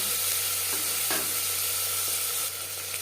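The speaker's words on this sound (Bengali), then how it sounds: "পেঁয়াজ টমেটো হালকা করে ভেজে নেব" Onion and tomato fry lightly in a pan for an alu mutton curry, giving a steady close sizzle with a couple of soft stirring scrapes and no voices.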